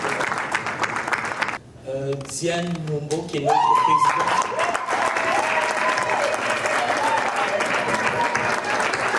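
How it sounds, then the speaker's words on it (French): Sustained audience applause at a ceremony closing an Afrikgenie talk event, steady and full after a brief lull, with a presenter speaking over the clapping as names are announced. "Applaudissez encore pour"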